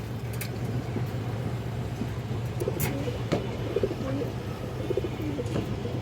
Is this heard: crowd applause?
no